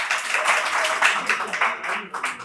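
At a live Hindi poetry recitation, the audience claps in uneven, rather sparse bursts, with individual claps standing out and the clapping tapering off toward the end.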